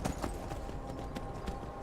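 Horse hooves in the video game Skyrim clip-clop steadily in a regular rhythm, moderately loud and close, over a low ambient background with no speech.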